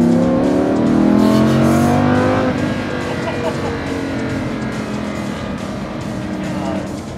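Lamborghini Huracán engine revving high from inside the cabin on a test drive, a loud sustained roar that climbs, then settles into a steady drone, with voices talking over it.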